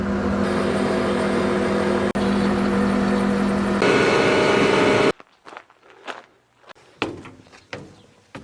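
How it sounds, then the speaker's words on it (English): A skid steer loader's engine runs steadily on a farm, a loud continuous drone that shifts pitch partway through, then cuts off, leaving quieter clunks and shuffling movement nearby. "One-handed skid steer operation."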